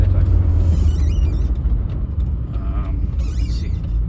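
A BMW E28 M5 engine idles with a steady, loud low rumble, a power steering pump whining faintly on top, close by and continuous.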